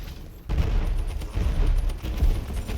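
A grenade explodes in a video game, and a heavy, low boom suddenly breaks in after a brief quieter moment, then rumbles on with further rough blasts.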